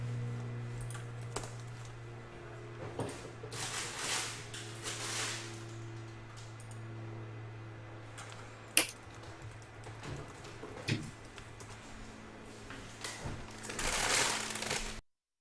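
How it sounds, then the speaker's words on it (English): Someone types on a broken computer keyboard that is missing the U and 7 keys, with scattered, irregular keystrokes and occasional sharper clacks over a low electrical hum. "It's really hard typing without the letter U and the number 7."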